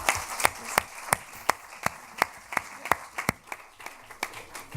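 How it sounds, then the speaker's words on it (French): Scattered, rhythmic clapping from a small conference audience after a talk on social media strategy, sharp distinct claps spaced evenly and building slightly over a few seconds. "Merci beaucoup, on peut l'applaudir."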